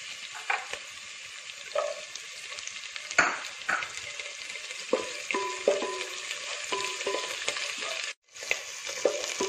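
Green chillies fry with drumstick leaves for a Kerala thoran, a constant crackling sizzle overlaid by irregular clinks and scrapes of a spatula on the pan, close and clear, with a brief pause near the end.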